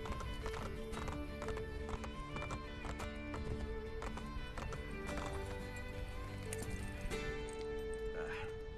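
Rapid horse hoofbeats clop in a steady galloping rhythm in Assassin's Creed Brotherhood, with a horse neighing briefly and game background sounds underneath.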